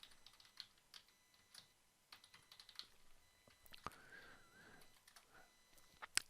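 Quiet, sparse keystrokes on a computer keyboard as a search is typed, scattered soft clicks spread over several seconds with faint background hiss.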